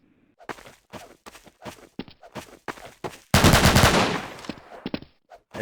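Gunfire in a Velkon crate-unboxing video game session: a string of short sharp shots in uneven bursts, then a louder, denser volley near the end, close and prominent with no talk over it.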